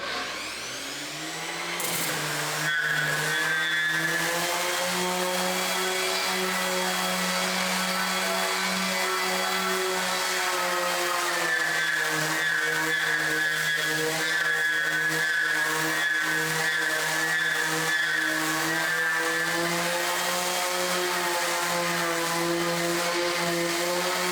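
An electric wood sander starts up, then runs at full speed with a loud, steady, high-pitched whine and buzz close by that lasts more than twenty seconds with slight shifts in pitch, and no one speaks.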